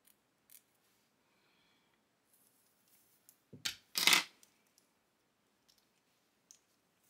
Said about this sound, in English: I cut my hair.